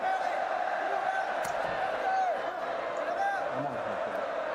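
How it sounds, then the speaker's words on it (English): A Royal Rumble wrestling arena crowd in Riyadh roars and cheers in a continuous, far-off wash of noise, with scattered whistles and shouts rising out of it. "This crowd is going nuts for him."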